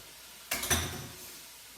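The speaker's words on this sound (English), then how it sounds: "what I'm going to do is I'm going to now add my onions" Onions drop into a pan of browning ground beef with a sudden sizzle and a brief clatter of stirring, then the hiss fades to a faint simmer; quiet and close, no talking.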